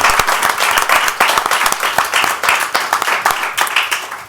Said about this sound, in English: we should give them a round of applause for that